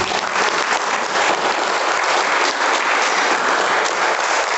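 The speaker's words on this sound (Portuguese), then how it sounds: "Uma salva de palmas para Jesus." A church congregation claps together for Jesus at the close of a sermon, a loud, sustained, even burst of many hands with no talking over it.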